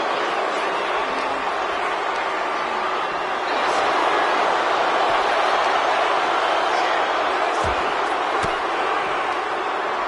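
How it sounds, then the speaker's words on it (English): Large arena crowd in the WWE 2K25 wrestling video game, a steady broad roar of cheering that swells louder around the middle and holds loud to the end, with a few sharp hits near the close. "do you hear this capacity crowd?"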